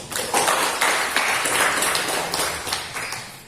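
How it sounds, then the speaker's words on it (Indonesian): Applause from a village community gathering in Sangkima, East Kutai, steady scattered clapping of a small crowd lasting a few seconds, fairly close, with no talk over it. "Tepuk tangan."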